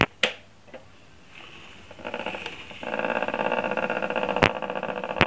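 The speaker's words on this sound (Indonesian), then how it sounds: "itu suara dinamonya ya, suara dari blowernya." A homemade hot air soldering station switches on after a few sharp clicks, its blower motor spinning up into a steady buzzing whir that grows louder and holds, fairly close and with no talk over it.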